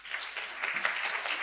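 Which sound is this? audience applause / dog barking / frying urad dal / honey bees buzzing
audience applause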